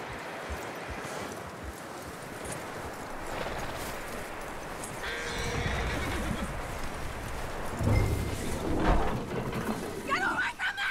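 In the Red Dead Redemption 2 video game, a horse whinnies and its hooves clop on the ground, close and clear, while characters talk over it and a louder neigh rises near the end.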